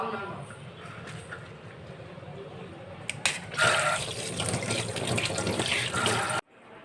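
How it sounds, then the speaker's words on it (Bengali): Fish is washed under a running kitchen tap, water splashing into the sink and growing louder midway before it cuts off abruptly, with a voice speaking over it. "চলো মাছটা ধুয়ে নিই"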